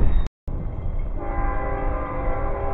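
A passing train sounds a sustained horn blast over the low rumble of rolling railcars, loud and near, with a brief dropout early before the horn tones settle in and hold.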